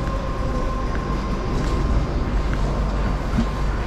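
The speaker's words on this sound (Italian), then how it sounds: "Il treno regionale proveniente da Venezia Santa Lucia è diretto a Treviso Centrale, delle ore 6:56, è in arrivo al binario 4." A regional train rolls into a station platform in Italy, a loud continuous low rumble and rail roar running steadily through the whole stretch.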